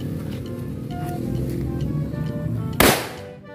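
A single sharp, loud firecracker bang bursts out near the end, cutting through a steady background rumble of engines and murmur.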